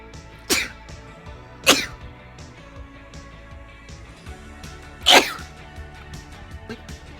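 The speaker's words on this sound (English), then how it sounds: "I gotta sneeze." Three sharp sneezes burst out close by, one early, another about a second later, and a third after a pause, each loud and alone over a faint quiet room.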